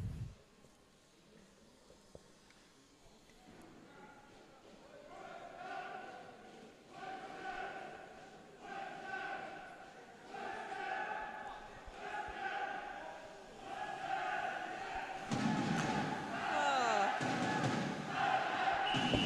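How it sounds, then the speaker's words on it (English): Parents in the stands cheering at a youth basketball game between the 2006 Western Canada Selects and Sweden, with rising waves of crowd shouts and cheers that grow louder toward the end under a commentator's talk. "The Swedish parents cheering for their side."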